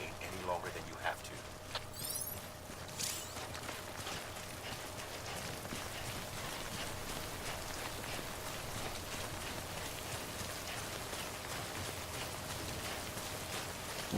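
Steady timefall rain in the video game Death Stranding, a constant broadband patter filling the whole stretch, with a low steady hum beneath and a few louder early drops; no one speaks over it.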